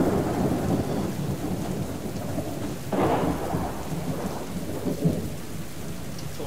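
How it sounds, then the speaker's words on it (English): Steady rain pours throughout a stormy scene in the survival game Subsistence, with a sharp thunder crack near the midpoint and rolling rumbles after it, no voices heard. "I thought I heard something other than the thunder."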